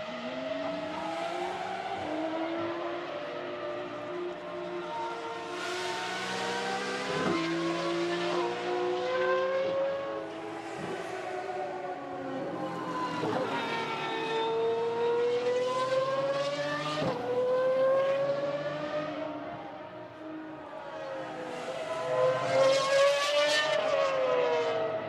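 GT1 race cars on track at a demonstration race roar past in a series of loud engine notes rising and falling with gear changes, several cars passing in turn with no commentary over them.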